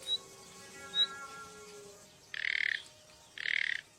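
Birds sound an alarm at a pool in the wild: two faint high chirps, then two loud harsh buzzing squawks about a second apart, each lasting around half a second.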